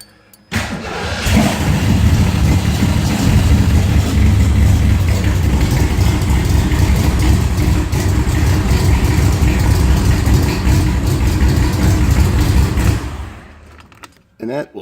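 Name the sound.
car engine cold start and idling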